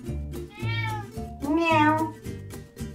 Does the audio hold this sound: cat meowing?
yes